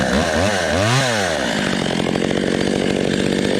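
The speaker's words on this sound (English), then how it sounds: "I'll show you how this thing runs" A vintage Stihl 020 AV Super chainsaw engine revs up and down, then settles into a steady, loud, rapid two-stroke putter, close and continuous with no voices.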